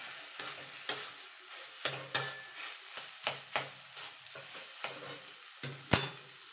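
Grated boiled potato being stirred and mixed in a pan for vegetable chops, a run of about a dozen short, regular scraping strokes, close and moderately loud, with no voices.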